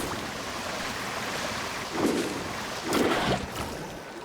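Water swooshes and splashes as a character carves through waves in Genshin Impact, a steady wash of sea noise broken by two louder surging splashes near the end.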